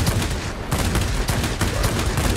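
A Ki-84 fighter in a flight combat game firing its paired 20mm and 30mm cannons, loud rapid continuous bursts with short gaps, heard up close and alone.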